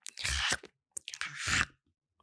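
A voice mimics loud, obnoxious munching of food with close, wet crunching and chewing noises in two bursts separated by a short pause.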